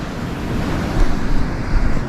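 Sea waves and strong wind on the Irish coast during spin fishing, a loud steady roar of surf with gusting wind buffeting the microphone.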